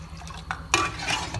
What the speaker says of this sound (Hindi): ऐसे इसको फेंटते रहना है